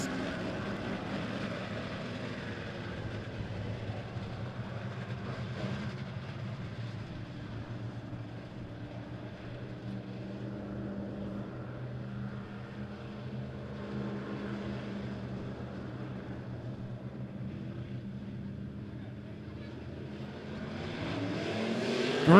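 Race cars at Monett Motor Speedway roar off together at the start of a heat race, a dense, steady engine drone that holds for the whole stretch and swells slightly at the end, with no talking.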